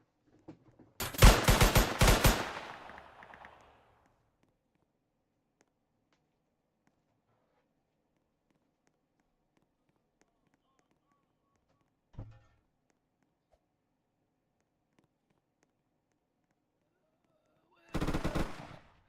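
Enemy gunfire in a video game: a loud rapid burst of automatic fire near the start, a short single thud midway, then another brief burst near the end, with near silence between.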